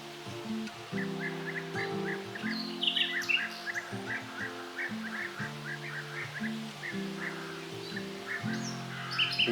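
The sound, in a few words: flock of birds calling in Hungary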